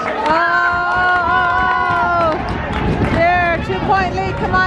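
Crowd noise at a 1995 basketball game, a loud sustained roar of many voices with rising shouts and whistle-like cheering tones above it, staying full and close throughout.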